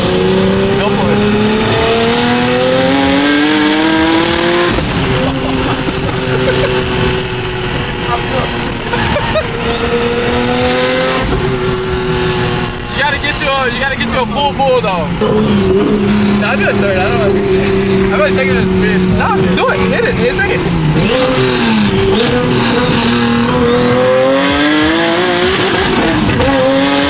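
A turbocharged Nissan 370Z race car engine revs hard and accelerates repeatedly through the gears at a TX2K event, loud rising engine tones with shifts, tire noise and occasional voices.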